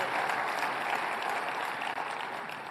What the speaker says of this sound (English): So give a round of applause to Ruth